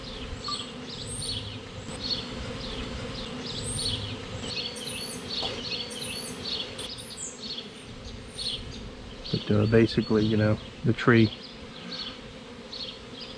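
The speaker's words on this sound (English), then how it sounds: "This was a textbook bee tree removal." Bees buzz steadily throughout a bee tree removal, a dense, close humming swarm with individual insects zipping past, while someone briefly talks near the end.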